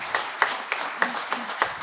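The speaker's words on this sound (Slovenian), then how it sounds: "Jaz mislim, da si vsi skupaj zaslužijo še en aplavz." Short, sparse clapping from a conference audience at a public administration event, heard as a handful of distinct claps in a loose rhythm.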